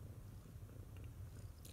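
A cat purrs softly and close by, a faint, continuous low rumble with a gentle rhythmic pulse, alone in a quiet indoor room.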